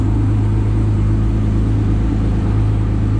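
A custom-built all-carbon-fiber 2014 Nissan GT-R R35 runs close by, its engine holding a loud, steady, deep rumble with a continuous low drone throughout and no talking.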